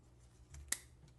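Pruning shears make a single crisp snip through a Ficus triangularis bonsai branch, one short faint click set against quiet room tone.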